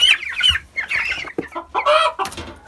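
Cobb 500 broiler chicks, about twenty days old, cheep and chirp in quick, uneven bursts during weighing. The calls are close and fairly loud, with no talking.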